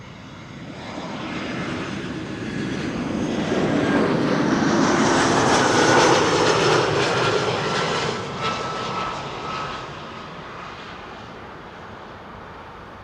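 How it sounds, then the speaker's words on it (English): Air Arabia Maroc airliner arriving from Tangier at Amsterdam Schiphol, a jet roar that swells from a distant rumble to a loud, whining pass over the middle seconds and then fades away, with no voices. "Air Arabia Maroc arriving from Tangier up next"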